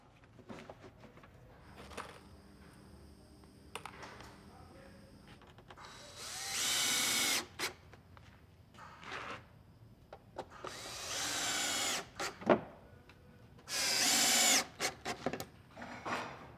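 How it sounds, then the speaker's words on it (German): A power drill drives screws to fasten a wooden trim strip to the front of a handmade beach chair in a workshop, heard as several loud whirring bursts between quieter handling knocks and clatter. "schraubt Katrin Bergmann eine Zierleiste an der Vorderseite an"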